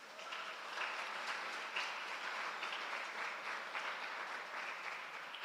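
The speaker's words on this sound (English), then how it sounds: "Clap yourselves." Year-one students at a teachers' college roll call ceremony clap for themselves, a broad, even wash of applause filling the room for several seconds without speech.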